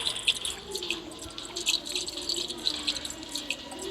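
Petrol pours into a car in the horror video game Granny, a thin, trickling liquid stream with small splashy drips in quiet surroundings.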